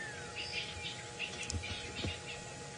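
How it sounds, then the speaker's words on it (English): Guinea fowl give scattered, harsh chattering alarm calls close by at sunset in the African bush during a safari drive, fairly soft against a steady insect hum. "so many guinea fowl alarming right next to you"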